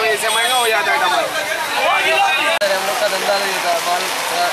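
Steady heavy rain pours onto a flooded street in Bhiwandi, a continuous dense hiss that stays loud throughout while several people talk and chatter nearby.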